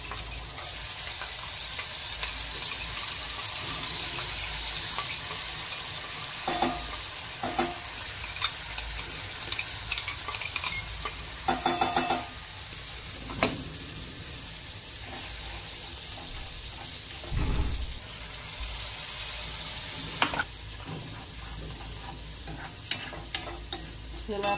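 Mustard seeds and curry leaves fry in hot oil in a pan for tempering a chutney, a steady loud sizzle with crackling pops and occasional stirring clatter throughout, no voices.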